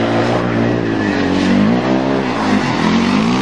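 Car drifting on ice during winter off-road driving, a loud close engine roaring and revving with a wavering pitch as the wheels spin, steady and continuous throughout.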